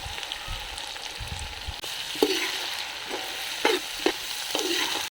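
Onion and capsicum sizzle in a pan with Kashmiri chilli powder for chilli pork while a spoon stirs in scraping bursts over a steady, close frying hiss.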